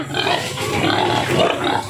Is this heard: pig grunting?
yes